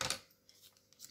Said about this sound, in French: Alors, hop, des ciseaux,